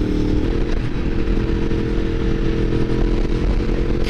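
A Yamaha MT-10 motorcycle engine roars loud and close during a wheelie, a harsh, steady, rumbling growl with gritty clatter layered over it and no pause throughout.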